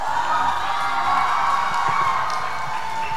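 A dance competition audience at a traditional-round elimination in Arunachal Pradesh breaks into loud, sustained applause and cheering, a dense continuous crowd roar with scattered whoops filling the whole stretch.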